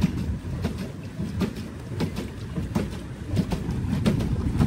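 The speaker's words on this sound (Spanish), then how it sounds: "Porque de tu lado sí se oye que pedalea y del mío no." A pedal boat pedaled on water at a family pool outing gives a rhythmic churning and slapping of water, repeating in a regular beat close by, with a windy outdoor background and no voices.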